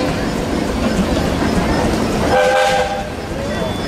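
A steam engine whistle at a steam power show in Sycamore, Illinois, gives a short tonal blast lasting under a second over steady, loud machinery noise.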